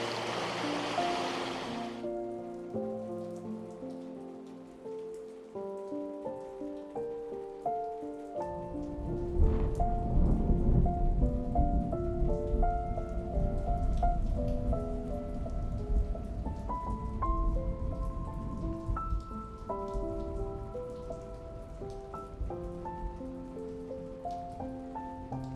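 Acid mine drainage water wells up out of the ground and flows in a steady, close trickling and splashing wash, which grows fuller partway through and is overlaid by a gentle melodic tune.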